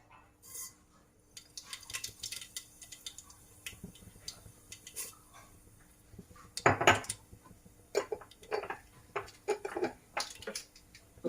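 Half a teaspoon of mustard seeds (rai) goes into hot oil in a pressure cooker for a Sindhi bottle gourd curry. Irregular light crackles and clinks start sparse, then grow busier, with no voices.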